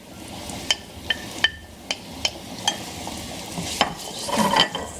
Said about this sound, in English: As the garlic is already starting to brown, I'm just gonna throw in my onions.